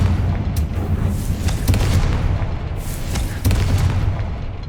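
Blasts from the Confringo explosion spell in the video game Hogwarts Legacy, a loud, rumbling roar of booming bursts that rises and swells over several seconds.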